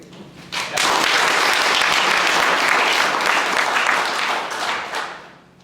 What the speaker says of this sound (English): it's worth judging by the applause meter